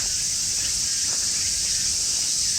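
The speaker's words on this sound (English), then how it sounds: "The cicadas, the noisy cicadas add to the atmosphere, the summery Japanese atmosphere." Cicadas drone loudly in summer at Ueno Park, Tokyo, a steady high-pitched buzzing that fills the air without pause.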